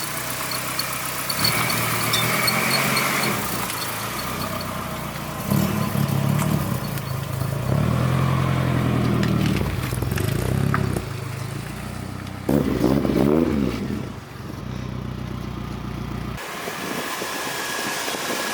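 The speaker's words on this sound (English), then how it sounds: "She starts right up, people. No misfire. This is a good truck." A truck engine cranks, catches and keeps running with no misfire, a steady mid-pitched idle with some mechanical clatter and brief revs, close by and loud throughout.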